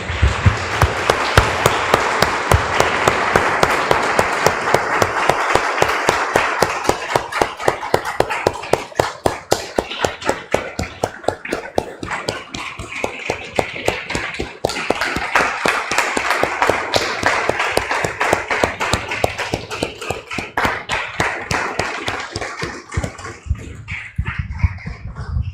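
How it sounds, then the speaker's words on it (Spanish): A Spanish-speaking church congregation claps loudly and rhythmically in unison, a long run of sharp, evenly spaced beats that keeps a steady tempo before thinning out at the end. "Damos un aplauso, hermanos, al Señor."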